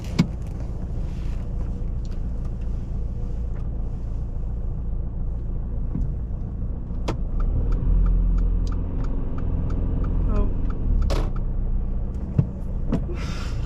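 A car pulling away during a driving lesson, with low steady engine rumble from inside the cabin that swells slightly as it moves off, a couple of sharp clicks, no talk.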